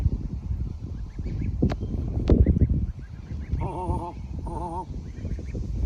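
Young geese about two months old on a farm honk and call in short wavering bursts, close by, over a busy rustling yard, with a voice saying a couple of brief words.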